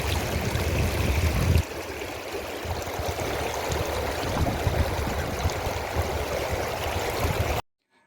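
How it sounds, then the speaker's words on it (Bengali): Flowing stream water rushes and splashes steadily as people play in it, the sound loud and close, with a sharper splash early on, before cutting off abruptly. "জল নিয়ে খেলছি।"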